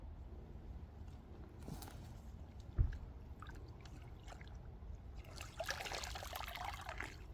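Water trickles and drips from a small fish trap hauled up out of a muddy backyard spring, a light, close splashing that grows busier and more scattered toward the end, with no talking.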